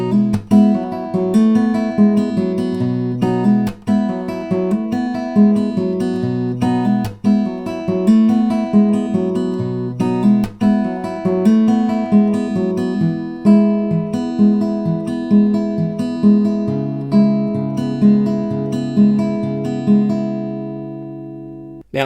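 An acoustic guitar is fingerpicked through the first verse part of a song, with clear plucked notes over a repeating bass pattern, played alone and close for about twenty seconds.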